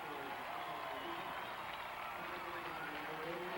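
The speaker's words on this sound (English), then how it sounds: "And listen to this crowd." A college football stadium crowd at Western Kentucky hosting Georgia Southern roars in a dense, continuous wash of cheering, distant and sustained, with faint voices beneath.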